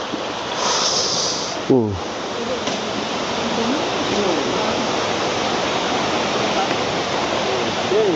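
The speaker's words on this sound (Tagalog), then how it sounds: "Nandito ako sa Batis, oh." Steady broadband rush of a flowing forest stream at a campsite near Mount Makiling, constant and fairly close, with a brief knock and faint voices in the background.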